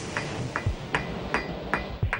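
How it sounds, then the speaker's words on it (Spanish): A hammer strikes a piece of iron being forged by hand, about six evenly spaced ringing metallic blows roughly every 0.4 seconds, close and moderately loud with no talking. "Es la primera vez que suena como cuando se golpea un trozo de metal."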